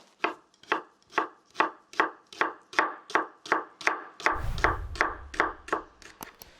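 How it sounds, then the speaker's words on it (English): A knife finely chops shallot on a cutting board in a steady run of about sixteen crisp, evenly spaced chops, close and alone, with a brief low thump partway through. "To finely chop the shallot, just slice it, but not until the edge."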